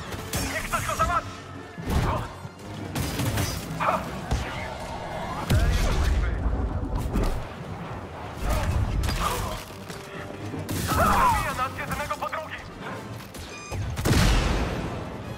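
Blaster gunfire and impacts in the Star Wars Jedi Survivor video game, bursts of shots, crashes and thuds scattered across the scene, with characters talking between and over the action.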